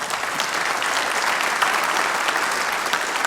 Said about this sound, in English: we're going to start by giving a round of applause for all the people who are sat at home